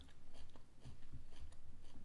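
Crunchy raw radish is bitten and chewed close to a microphone, with repeated crisp crunches in an irregular rhythm, quiet and intimate with no talking.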